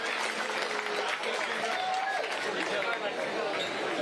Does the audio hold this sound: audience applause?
yes